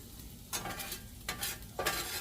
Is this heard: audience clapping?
no